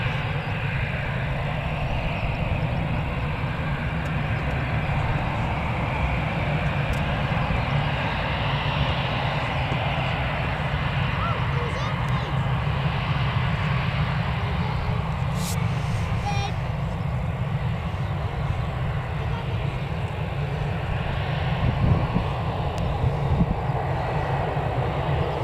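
An EasyJet aircraft at Newcastle Airport gives off a steady, low engine rumble that holds constant and moderately loud for the whole stretch, with no clear voices.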